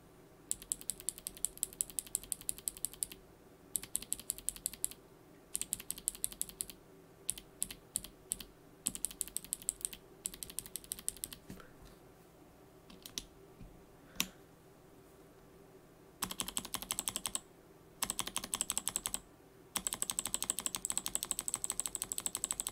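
Mechanical keyboard fitted with spring-lubed Box Noble Yellow switches is typed on in bursts, crisp clacky keystrokes in rapid runs separated by short pauses, close and alone.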